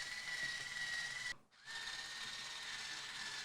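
A power screwdriver drives screws to mount an Anker Eufy smart door lock, a steady whirring hum close by that breaks off briefly for a short pause and then starts again at the same pitch.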